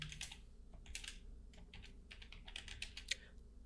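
Typing on a computer keyboard, bursts of quick light key clicks in uneven clusters with short pauses, close and fairly quiet with no talking.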